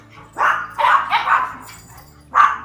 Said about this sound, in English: my dogs are in here.